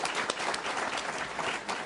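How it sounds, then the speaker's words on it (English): A brief burst of steady audience applause fills a public-affairs event hall, dense clapping from a crowd with no break. "round of applause"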